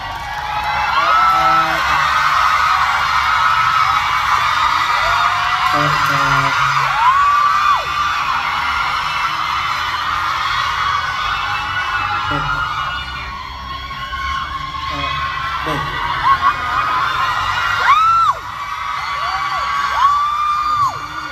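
A Bangkok concert crowd at a world tour cheers and whoops loudly, with high-pitched screams rising repeatedly over a dense, sustained roar of the audience.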